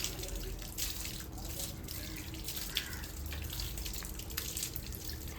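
Borewell water runs from a pipe tap into a vessel, a faint steady splashing hiss with small irregular drips and gurgles throughout.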